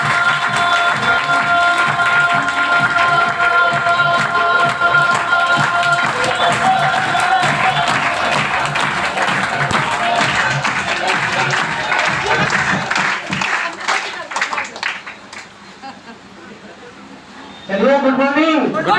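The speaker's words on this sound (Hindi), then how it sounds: "एक बार फिर से जोरदार ताली होना चाहिए संजय सर के लिए।" An audience at a DXN business meeting claps loudly and steadily for Sanjay sir. The applause is dense and close, with some talk mixed in, and it fades briefly before a final burst.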